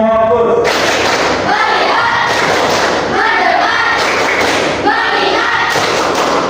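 A classroom group claps in rhythm during an Indonesian clap game, repeated bursts of many hands with thumping beats and chanting voices throughout, loud and close.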